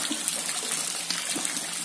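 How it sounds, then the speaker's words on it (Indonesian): Water dripping from the ceiling of a swiftlet cave on Mount Ciremai into a container held underneath, a close, continuous trickle with small splashes and occasional distinct drops. "Jadi airnya itu netes dari atas dan kita harus menengadah, menaruh wadah di bawah sampai airnya penyuh."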